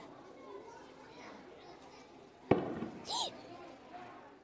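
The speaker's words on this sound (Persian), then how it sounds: "این صدای تیراندازیه" One sharp, loud gunshot cracks out amid the chatter and shouts of children playing nearby.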